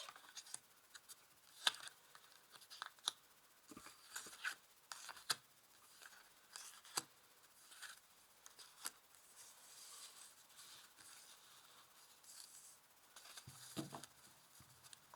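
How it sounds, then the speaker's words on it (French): Tarot cards laid out on a table: soft scattered flicks, slides and taps of card stock at close range, quiet and irregular, with short pauses between placements. "Je vais ajouter maintenant des cartes ici."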